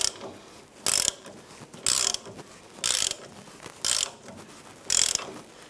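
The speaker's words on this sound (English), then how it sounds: "even though it's a ball joint press, you can still use it to press in other bushings" A ball joint press is used to press a track bar bushing into a Jeep Wrangler, giving five evenly spaced ratcheting clicks about a second apart, close and fairly loud.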